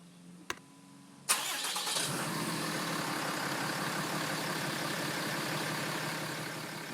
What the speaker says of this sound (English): Now I'm just going to let the truck idle for a couple minutes